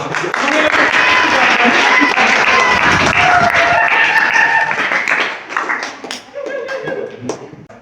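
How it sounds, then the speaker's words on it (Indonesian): Students in a classroom clap together, loud and dense at first, then thinning into scattered claps with voices and chatter mixed in near the end. "silakan untuk tepuk tangan tuh yuk"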